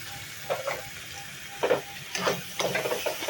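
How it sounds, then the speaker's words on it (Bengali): Spices for chicken liver ghugni fry in a pan as a spatula stirs them, a low steady sizzle with several louder scraping pushes in quick bursts, close and moderately quiet. "খুব সুন্দর করে আমি মশলাগুলোকে নেড়ে চেড়ে নিলাম"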